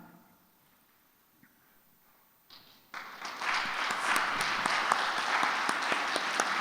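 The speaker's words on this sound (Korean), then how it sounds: "우리는 큰 박수로 또한 환영을 듣도록 하겠습니다" After a quiet stretch, a church congregation breaks into loud, sustained applause welcoming visiting prospective seminary students, dense clapping swelling and holding steady to the end.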